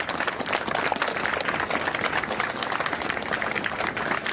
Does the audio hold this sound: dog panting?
no